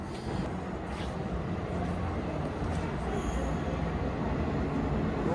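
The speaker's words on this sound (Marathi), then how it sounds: "आली का मेट्रो आली मेट्रो आली" A metro train rumbles steadily into the station, a loud continuous roar of wheels on rails with faint squealing, no voices.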